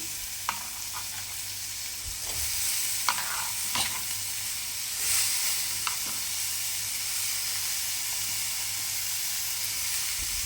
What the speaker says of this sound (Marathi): आणि आता टमाटे टाकायचे.